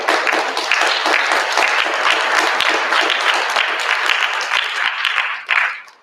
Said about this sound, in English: So students, give an applause to your families for supporting you.